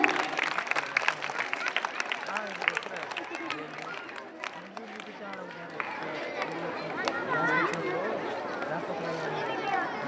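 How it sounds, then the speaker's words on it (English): Schoolchildren clapping at an Independence Day celebration at a CBSE high school, scattered applause mixed with crowd chatter and voices of the children, fairly loud and continuous across the whole stretch. "Come on, children, give the claps."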